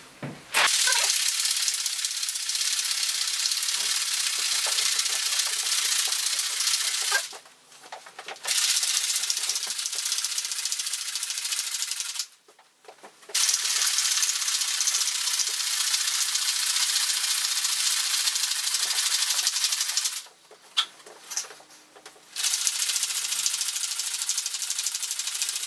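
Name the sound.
cocktail shaker being shaken for a Ramos Gin Fizz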